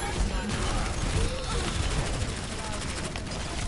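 Gunfire in an Overwatch match, dense and continuous at close range, filling the whole stretch with game effects while a player talks over it.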